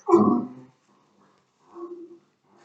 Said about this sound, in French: Je suis désolée si mes chiens font un peu de bruit, je viens de les sortir, et après ils font un peu les foufous.